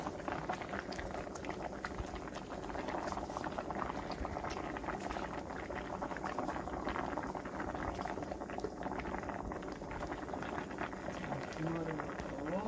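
A pot of braised pomfret bubbles and simmers at a steady rolling boil, with constant gurgling and popping throughout while a person talks over it.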